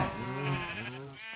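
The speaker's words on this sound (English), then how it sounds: "This is our sheep farm." A single sheep bleats on a sheep farm, a close, wavering, moderately loud call lasting about a second and a half, with no talk.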